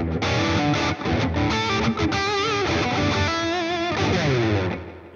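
An Epiphone Casino electric guitar played through heavy distortion, sustained crunchy chords ringing loud and close before fading at the end.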